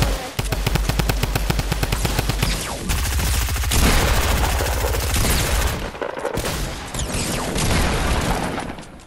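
Loud, close automatic gunfire in Fortnite, a long rapid volley of regular shots followed by further bursts and mechanical clatter, continuous across the stretch with no talking.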